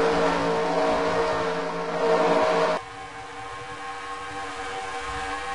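NASCAR Xfinity Series stock cars roar around the Kentucky track during a race, a loud, dense engine drone that abruptly drops to a lower, steadier note as the pack passes.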